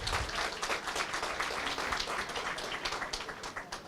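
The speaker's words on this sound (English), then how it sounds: "I would like to ask you to give a huge applause to this group which is making it happen" An audience at a cruise reception applauds, a dense, steady wash of many hands clapping close by with no talk over it.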